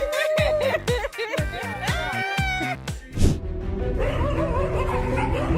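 Several dogs bark and yip rapidly at a cornered kitten, loud and close, with overlapping whines and excited yelps, then a noisy scuffle of mixed barking and commotion.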